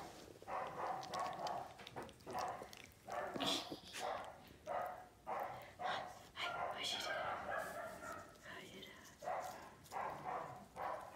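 Five-week-old puppies yip and bark in quick, repeated bursts close by, with whimpers mixed in and a person talking over them.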